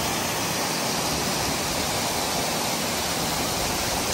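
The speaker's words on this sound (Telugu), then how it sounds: "ఎంత పైనుంచి పడుతున్నాయో ఈ నీళ్లు" Glacier meltwater near Kedarnath pours down from a height in a constant, dense, roaring rush, loud and unbroken throughout, with no voices.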